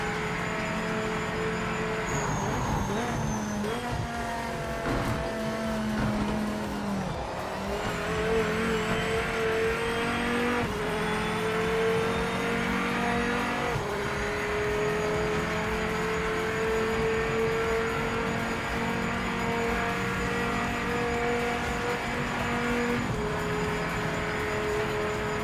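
A race car in the video game Project Motor Racing drones continuously at high revs, the engine note rising and dropping through gear changes for the whole stretch, steady and loud.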